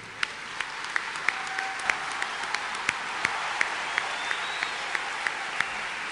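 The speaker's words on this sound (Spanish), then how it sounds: "También se merece un aplauso cerrado" Sustained applause from a large awards-ceremony audience at a televised Chilean gala, dense steady clapping with sharper individual claps standing out, continuous and fairly loud throughout.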